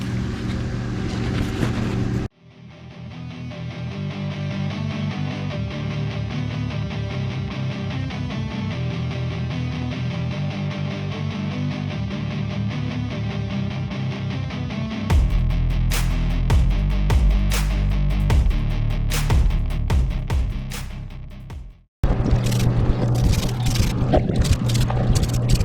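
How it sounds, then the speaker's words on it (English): Diesel engine idling steadily after valve reassembly and oil pan reinstallation, a continuous low rumble that cuts out briefly, then runs on with rougher, louder clatter and knocks before stopping and restarting. "I ran some diesel through the engine"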